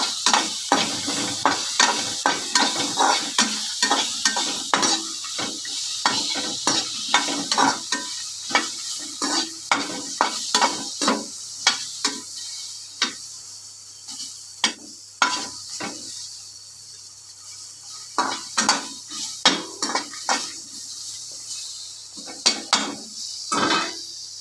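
Pirandai leaves and a little tamarind sauté together in a pan, with a steady sizzle broken by frequent scraping stirs from a spoon, close and fairly loud, with no talking.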